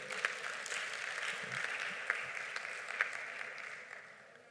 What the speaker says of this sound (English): Please, a round of applause for her too.